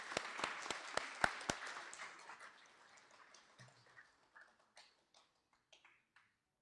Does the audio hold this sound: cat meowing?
no